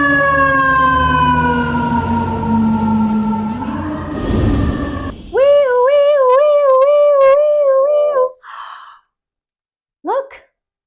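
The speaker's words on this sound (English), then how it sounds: "This is a fire truck." A fire truck siren wails in long rising and falling sweeps, loud and close, then gives way to a quicker warbling siren pattern that cuts off and returns in a short burst.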